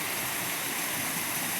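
Steady rushing water from a stepped waterfall cascading in a series of drops under ten feet each, running down a hillside into a river along a state park trail; a continuous broadband roar, fairly close, with no voices.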